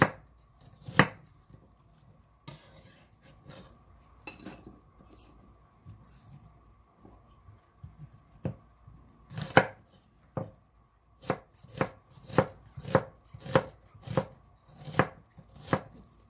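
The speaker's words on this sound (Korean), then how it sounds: "양파는 먼저 잎부분은 잘라버리고 2등분 해서 이거를 썰겠습니다" A small onion, trimmed and halved, is chopped with a knife on a board for braised pomfret. Scattered knife strikes at first give way to a steady run of crisp, close chops, with no voices.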